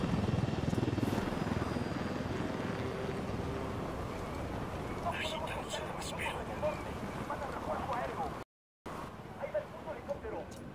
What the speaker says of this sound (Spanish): Otra vez helicóptero, en serio.